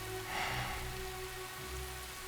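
Heavy rain falling, a dense steady wash of drops on surfaces that stays even and continuous throughout, with no voices.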